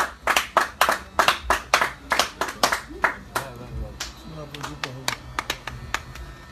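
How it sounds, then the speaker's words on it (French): An audience claps with sharp, distinct hand slaps in an uneven rhythm. The claps are loud and close at first, then thin out into fewer, softer claps with a voice murmuring underneath. "Merci de vous applaudir."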